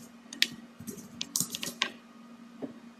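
Keystrokes on a computer keyboard while entering a spreadsheet text formula: a handful of sharp, irregular clicks scattered over a few seconds, fairly close and faint, against a steady low hum with no talking.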